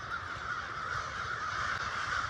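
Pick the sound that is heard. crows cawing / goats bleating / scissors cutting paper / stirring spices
crows cawing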